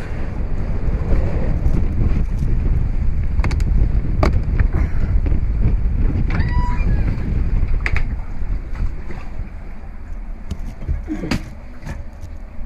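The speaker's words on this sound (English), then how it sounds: "I don't know if you can hear me, but it's windy." Strong wind buffeting the microphone with a constant low roar, with occasional creaks and rattles aboard a liveaboard sailboat on the water in Mexico.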